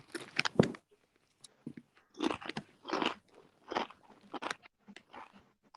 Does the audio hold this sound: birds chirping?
no